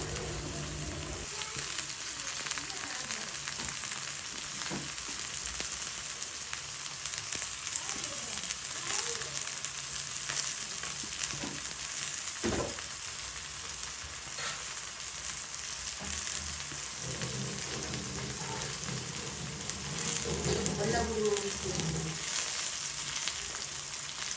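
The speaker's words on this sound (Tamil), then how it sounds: "வெங்காயம் பச்சை மிளகாய் அதோட கொஞ்சம் கறிவேப்பிலை பிறகு சீரகம் இவ்வளோத்தையுமே போட்டு நாங்கள் இப்போ வதக்க போகிறோம்" Onion, green chili, curry leaves and cumin sauté in oil for a Jaffna meat curry, giving a steady close sizzle with scattered crackles and stirring scrapes throughout.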